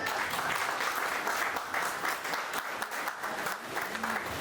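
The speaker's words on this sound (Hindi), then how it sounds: "तालियों की गड़गड़ाहट रुकनी नहीं चाहिए।" Thunderous audience applause at a Jashn E Royal Star event, many hands clapping in a loud, continuous roar with faint crowd sounds and a brief tonal blip near the end.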